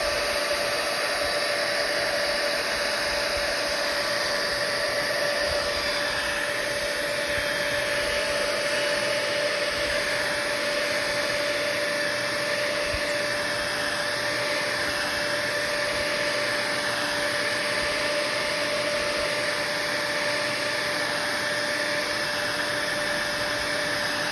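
A heat embossing tool blows hot air steadily onto clear embossing powder for ink stamping, a continuous close whirring hiss with a faint tonal hum that runs unbroken throughout with no talk.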